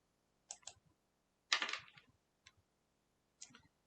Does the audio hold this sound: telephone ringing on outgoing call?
no